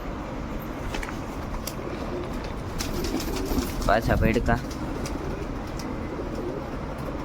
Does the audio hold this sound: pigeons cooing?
yes